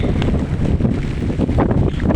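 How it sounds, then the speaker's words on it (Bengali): Strong storm wind after a cyclone blowing hard across the microphone, a dense continuous low rumble and buffeting roar with no pauses. "গতিতে বাতাস চলতেছে"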